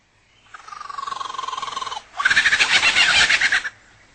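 A mimicking songbird imitates a kookaburra's call: a rising, warbling trill followed by a louder, rapidly pulsing cackle, heard up close with no voices.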